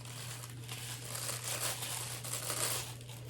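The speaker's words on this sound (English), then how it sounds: "Let me go ahead and take her out of the blister packaging." A scale figure is pulled out of plastic blister packaging, giving close, fairly quiet crinkling and crackling of the thin plastic over a few seconds against a low steady hum.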